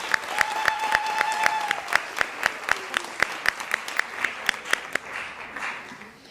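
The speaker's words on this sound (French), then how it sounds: "il mérite un plus gros applaudissement" Sparse, rhythmic clapping from a small crowd at an intercultural recognition gala, distinct claps in a steady beat that thin out near the end, with faint voices in the background.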